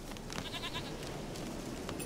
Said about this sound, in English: Come here, goat.